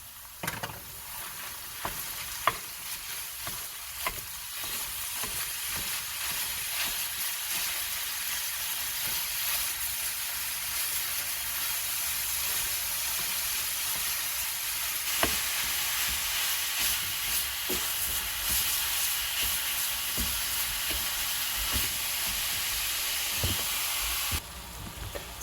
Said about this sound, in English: So we're going to add the meat